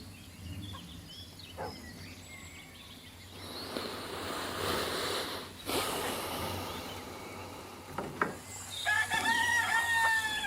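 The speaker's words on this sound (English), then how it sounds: "That sounds like Barley the rooster" Farmyard fowl sounds with a rooster crowing toward the end, over a noisy, rustling background with a few sharp knocks.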